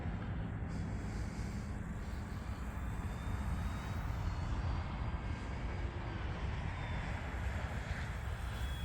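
An E-flite T-28 radio-controlled model airplane, a 1.2 m warbird, flies at a model airfield, its motor a steady, distant drone blended with wind noise across the whole stretch, no talking.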